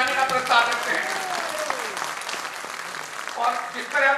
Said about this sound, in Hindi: और जिस तरह ताली बजी है